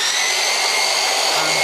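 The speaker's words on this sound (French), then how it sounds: "Et maintenant, la ponceuse à bande." Belt sander running without dust extraction, a steady loud whine with a broad rushing hiss and high tonal hum, continuous throughout at close range.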